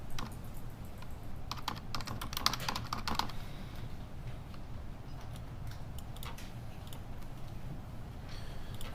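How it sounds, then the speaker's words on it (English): A judge's computer keyboard in a courtroom, typed on rapidly: dense clusters of clicking keystrokes, busiest in the first few seconds and then lighter and sparser, heard close against a low steady room hum. "The judge is pounding out the edits on his keyboard."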